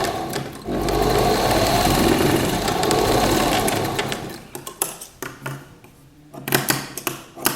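Sewing machine stitching the side seam of a girl's party-wear gown, a close, fast continuous needle rattle for several seconds, then stopping and restarting in short bursts of clatter.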